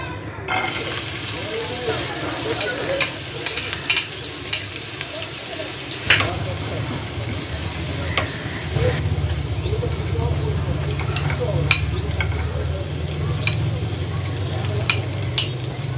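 Dates, cashews and raisins fry in ghee in a pan, giving a steady close sizzle with repeated scraping stirs and small clicks throughout.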